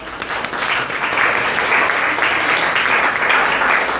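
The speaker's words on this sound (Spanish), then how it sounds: "Un aplauso fuerte" A church congregation applauds loudly and steadily for about four seconds, a dense, continuous wash of clapping filling the room with no speech over it.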